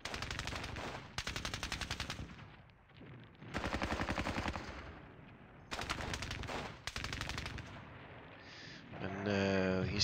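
Strategy wargame gunfire, with long bursts of loud, rapid machine-gun fire stopping and starting in several blocks, brief quiet gaps between them, and a closing burst that rings with a tonal, echoing edge.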